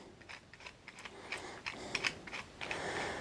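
A printed thread screwed into a 3D printed C clamp gives a quiet series of irregular plastic clicks and grinding ratchet-like ticks, close up with no talk.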